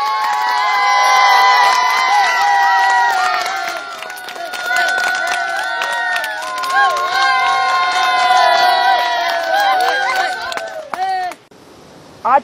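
A studio audience at a Pakistani game show cheers and claps loudly as the chief guest, KP chief minister Mahmood Khan, arrives; the crowd noise swells with whistles and shouts, then cuts off abruptly near the end.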